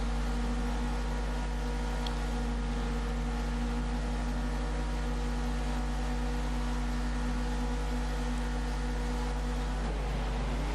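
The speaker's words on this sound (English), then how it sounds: "The revs start to climb." Touring car engines in the World Touring Car Championship at Indianapolis hold a loud, steady drone on the starting grid, with pitch dipping and shifting near the end as the revs change.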